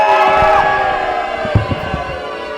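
Wrestling fans at a live show roaring and chanting in a big, reverberant arena, a loud continuous crowd wash with a few sharp claps and thumps near the end.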